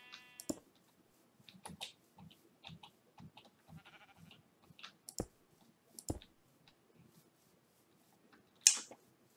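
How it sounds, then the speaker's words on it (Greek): Sheep bleating in Minecraft, a few short soft bleats mixed with faint clicks and footsteps, quiet and sparse with a louder burst near the end. "Και άλλα πρόβατα."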